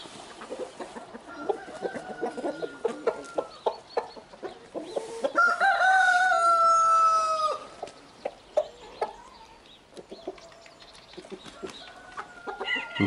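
A rooster crows loudly in a long drawn-out call amid steady clucking and scattered chicken noises nearby.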